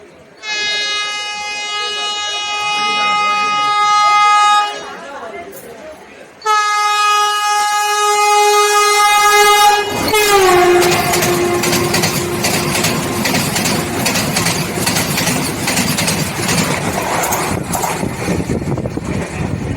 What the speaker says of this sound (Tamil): எதிர்பார்த்து கொண்டிருந்த வந்தே பாரத் எக்ஸ்பிரஸ் வந்துட்டு இருக்கு பாருங்க.